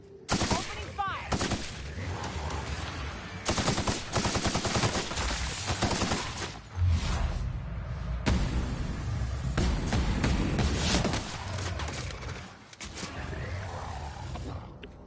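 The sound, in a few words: gunfire in the video game The Outer Worlds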